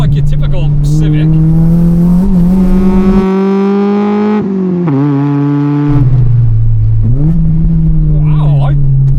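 Loud, close engine drone from a Honda Civic with a modified eBay exhaust, climbing in pitch as it accelerates, dipping briefly at a gear change, then pulling again.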